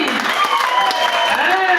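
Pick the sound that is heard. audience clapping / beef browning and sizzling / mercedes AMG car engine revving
audience clapping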